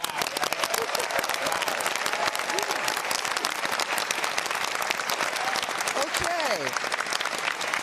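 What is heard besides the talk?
audience applause at Pomona College venue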